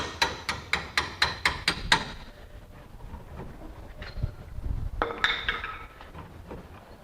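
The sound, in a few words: hammer tapping out Nissan Titan rear shock bolt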